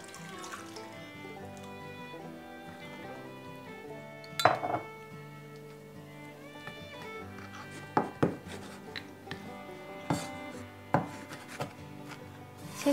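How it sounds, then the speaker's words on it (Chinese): Soaked dried scallops being chopped with a knife for yam cake, heard as a few sharp close taps and clinks over a faint ringing kitchen hum. "瑶柱泡到用手可以非常容易把它捏碎，我们就可以切。"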